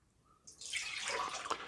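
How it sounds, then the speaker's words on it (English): Water is poured into a smart cooling cup, a short, close splashing pour that starts after a brief quiet moment and keeps up steadily to the end. "All right, so I pour it in the cup."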